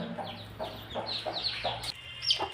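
Several hens cluck in short, repeated bursts at close range among chicks offered for sale, with brief higher peeps near the end and no talk.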